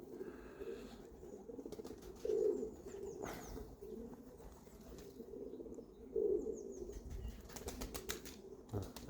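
Wild pigeons coo in low, repeated phrases close by, with two louder bursts standing out and brief wing flaps and light clicks scattered among them.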